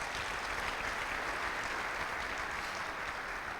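A church congregation applauds steadily during a family worship service, a dense, even wash of clapping holding at moderate level throughout with no voices over it.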